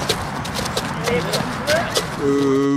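Trait du Nord draft horse walking at an agricultural show, its hooves clip-clopping in a steady rhythm close by, with a person speaking over the steps.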